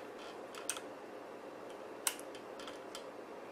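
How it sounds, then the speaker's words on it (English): A toggle switch wired to a battery for a bicycle lighting system gives a couple of sharp, close clicks, separated by quiet moments, with no talking. "So whenever I hit this toggle switch now,"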